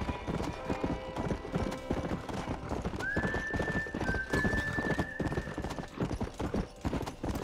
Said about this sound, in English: War horse right here.